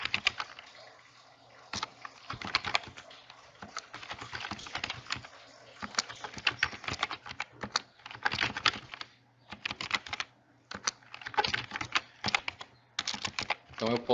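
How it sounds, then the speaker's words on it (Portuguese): Fast bursts of computer keyboard typing as data goes into an Excel spreadsheet: quick clattering keystrokes in runs separated by short pauses, close and fairly quiet. "Eu vou digitar normalmente, mesmo que ultrapasse a largura dessa coluna."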